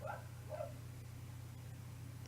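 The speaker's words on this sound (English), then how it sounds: "I don't know if you can hear my dogs barking in the background." Dogs bark a couple of times in quick succession, faint and distant in the background of a quiet indoor room, then fall silent.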